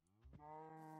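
A cow moos in modded Minecraft 1.16.4, one drawn-out, loud, tonal low call that holds steady for about a second with no talk over it.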